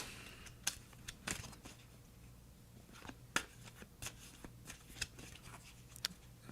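Tarot cards shuffled by hand in a quiet room, a series of crisp riffling snaps and soft slides at irregular intervals, close and fairly faint, with no voices.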